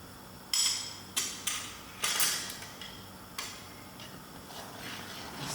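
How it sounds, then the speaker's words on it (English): A utensil knocks and scrapes against a metal pot while stirring khichdi ingredients, irregular clinks spaced apart, fairly quiet with no talking. "Stirring these ingredients."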